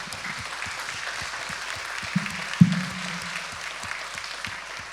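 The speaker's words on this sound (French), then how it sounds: "voilà, on vous applaudit d'abord." Thin, fairly quiet applause from a small audience at a health conference session, a scattering of soft claps in a loose rhythm over a hum, with one louder knock partway through.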